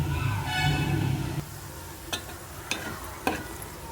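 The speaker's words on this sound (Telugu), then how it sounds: "ఆయిల్ అయితే కాగుతుంది అయితే ఇందులోకి ఆవాలు జీలకర్రండి అలాగే మినపప్పు శనగపప్పు కూడా వేసేసాను" Mustard seeds, cumin, urad dal and chana dal sizzle in hot oil for a puri curry, a busy crackle at first that gives way to a few sharp taps and scrapes from a stirring spoon.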